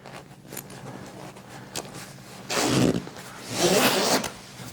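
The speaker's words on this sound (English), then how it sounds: "So we're going to zip this part right here." Two zips in a row as the cover sections of a leather recliner are zipped together: a short one, then a longer second run, both close and clear over quiet room noise.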